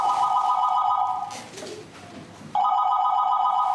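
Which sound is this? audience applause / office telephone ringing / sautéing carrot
office telephone ringing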